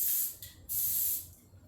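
Cooking spray hisses onto a waffle maker in two bursts, a short one and then a longer, steady spray that fades out, close and alone.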